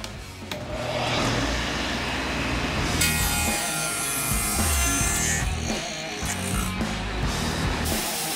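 A table saw with a tilted stacked dado blade cuts notches into wooden braces for a firewood shed, a loud, continuous grinding rasp close by that swells and eases with each pass.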